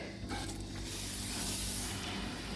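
A water sprayer hisses steadily and loudly while washing out a chicken coop, a continuous broadband spray running for a couple of seconds after a brief start.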